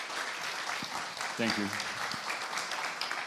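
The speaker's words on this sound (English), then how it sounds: "Applause is really well given." Audience applause at a panel discussion on rebuilding Ukraine, a steady dense clapping that fills the room throughout, with someone briefly speaking over it near the middle.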